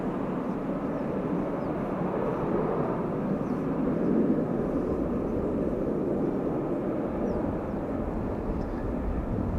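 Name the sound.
Airbus A350 landing with thrust reversers applied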